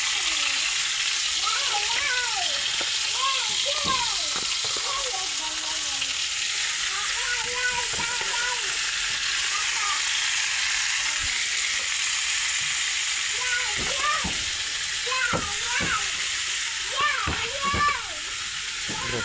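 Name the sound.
adobo cooking in a pan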